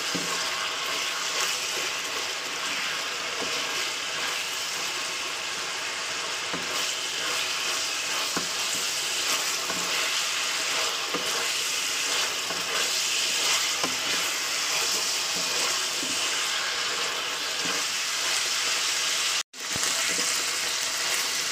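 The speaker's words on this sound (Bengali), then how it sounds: "আমি জাস্ট তেলের উপরে মাংসটাকে ভাজা করে নিচ্ছি" Meat frying in oil with no salt added, a steady, loud sizzle and crackle running unbroken and close for the whole stretch, with faint stirring scrapes and a brief cutoff near the end.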